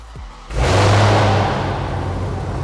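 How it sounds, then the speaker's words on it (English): A Mopar car engine turns over and catches after tuning, a brief starter whir followed by a loud, sudden roar that settles into a steady, rumbling idle close by. "Now we can start the car."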